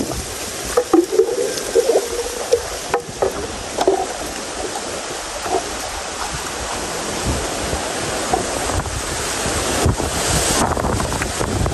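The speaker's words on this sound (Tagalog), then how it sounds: "Malalaki ang alon." Heavy ocean waves surge and break close by, with gusty wind buffeting the microphone.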